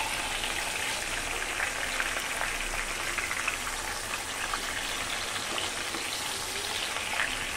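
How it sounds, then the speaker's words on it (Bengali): Taro pieces fry in oil left over from frying fish, giving a steady, loud, crackling sizzle like heavy rain that stays even throughout. "মাছ ভাজার তেলের মধ্যেই আমি কচু ভেজে নিব।"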